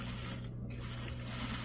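Sewing machine running steadily while back stitching a skirt seam, a close, continuous mechanical whir and clatter with a brief dip partway through, no voices.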